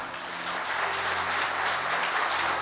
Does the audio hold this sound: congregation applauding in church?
yes